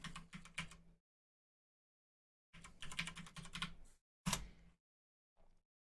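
Bursts of quick typing on a computer keyboard while entering a network IP address, close and fairly quiet, in three short runs separated by silent gaps, with a few isolated keystrokes at the end.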